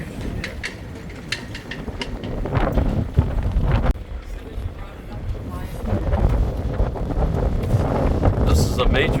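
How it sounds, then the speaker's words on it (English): Strong, gusty storm wind buffets a Nordhavn 35 trawler boat in its Baltimore Harbor slip, roaring and rumbling loudly into the microphone with shifting bursts and surges throughout. "This is a major storm coming in."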